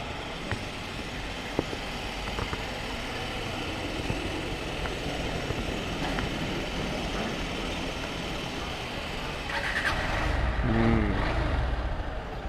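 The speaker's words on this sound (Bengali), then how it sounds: "গাড়ির সাউন্ডই চেঞ্জ হয়ে যায় মোবিল চেঞ্জ করার পরে" A Honda X-Blade motorcycle engine running just after an oil change, a steady hum that builds to a louder rev near the end.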